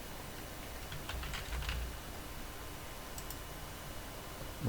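Sparse, faint clicks of typing on a computer keyboard, a few keystrokes in short clusters over a steady low room hiss, with no talking.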